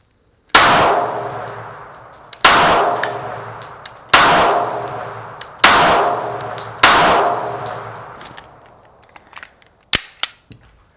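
Five loud, evenly spaced shots from a Springfield XD-S Mod 2 pistol, each with a sharp bang and a ringing metallic clang off a steel target, followed by a few smaller clicks and clanks of handling.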